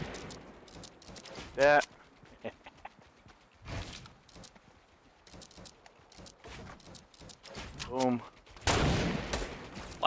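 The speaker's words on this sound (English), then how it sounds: "Watch out, they were shooting people down." Gunfire from the Fortnite video game rings out in scattered bursts of rapid shots, some close and sharp, others more distant, mixed with footsteps and players talking and laughing over it.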